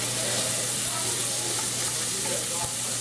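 Garlic and sage frying in a hot pan, a steady, close sizzle with soft crackling and a low constant hum beneath, no voice over it.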